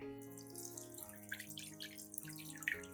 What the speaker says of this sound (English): strain out all the residue and keep only the pure liquid